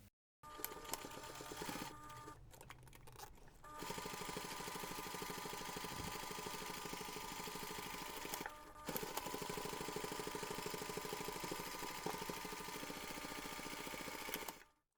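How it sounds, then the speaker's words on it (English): A sewing machine runs steadily for top stitching along the folded fabric edges of a large jewellery pouch, a close, continuous motor whir with a brief pause near the start and another around nine seconds. "Then we're going to top stitch along both folded edges about 2 millimeters from the edge."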